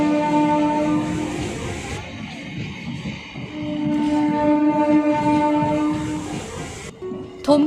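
A local train runs along the rails with a steady rumbling roll and a sustained tonal hum from the wheels, close and fairly loud throughout, with a brief louder burst at the end.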